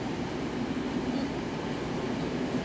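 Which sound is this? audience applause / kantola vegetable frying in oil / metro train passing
metro train passing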